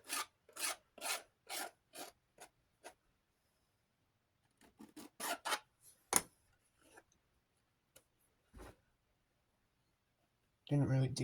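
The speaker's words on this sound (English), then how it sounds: "See if I can clean it up a little bit. Just going to take the X-Acto knife." An X-Acto knife scrapes leftover plastic debris off the blade of a gray Galaxy 9-inch oscillating desk fan, in a run of quick, close rasping strokes followed by a pause and a few sparser scrapes.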